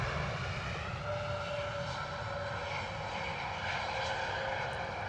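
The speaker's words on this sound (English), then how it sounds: "In true Neo engine fashion, not much noise." Airbus A320neo-family jet airliner landing at London Stansted Airport, its engines giving a steady, fairly soft broadband roar that holds even throughout, with no talk over it.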